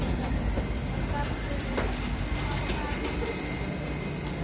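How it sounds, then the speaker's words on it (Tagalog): A Dubai metro train ride fills the space with a steady, loud rumble and rolling rail noise, occasional clicks and rattles, and people talking over it. "Sakay kami ng tren papuntang Gera."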